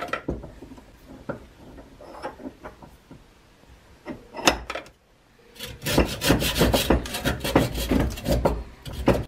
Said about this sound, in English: Just a little bit of back and forth with the rasp